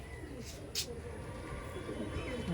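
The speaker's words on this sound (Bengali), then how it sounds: "পিয়ার শেখ ইঞ্জামুল ভাই কা কবুতর ओरिजिनल अबलक कबूतर बहुत अच्छा नस्ल वाला कबूतर" An Abalak pigeon, a heavy purebred bird, gives soft, low cooing close by against a steady background murmur, with a couple of brief sharp noises early on.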